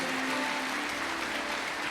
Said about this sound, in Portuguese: A igreja aplauda ao Senhor.